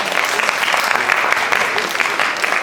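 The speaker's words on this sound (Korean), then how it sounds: "큰 박수 부탁드립니다." A high school audience at a humanities festival gives the principal loud, sustained applause, a thick continuous wash of clapping with faint voices mixed in.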